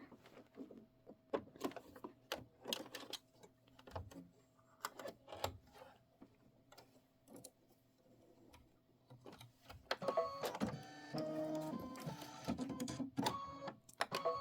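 Embroidery machine stitching a vase placement line in navy thread starts with scattered clicks and taps, then settles into a steady, close mechanical whir with rhythmic ticking and a faint motor hum.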